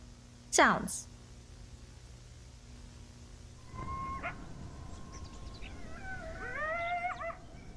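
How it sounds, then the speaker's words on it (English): A sharp rising-and-falling animal cry near the start, then distant wavering coyote howls and yips building toward the end, faint under a low background hum. "A coyote howls."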